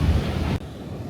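Waves wash onto a Konkan beach near Devgad with a broad, rushing surf sound and some wind, briefly dipping before the surf continues.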